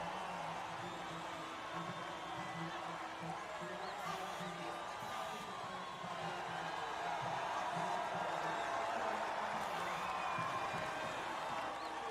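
A video game crowd in F1 25 cheers as drivers walk out to the podium at the Imola Grand Prix, a steady, moderately distant roar of cheering and whoops that holds without pause.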